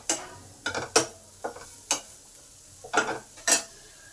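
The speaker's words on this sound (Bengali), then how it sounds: "2 মিনিট মশলাটাকে একটু নেড়ে নেব, যাতে এই মশলার কাঁচা গন্ধটা চলে যায়।" A spoon stirs cumin and coriander powder masala in a pan, giving a handful of short, separate scraping clicks spaced irregularly, close and fairly quiet, with a faint sizzle underneath.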